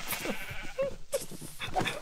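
Sheep bleating in a blocky survival video game, a few short nasal bleats close by that rise and fall over two seconds amid soft in-game background sounds, with no talk.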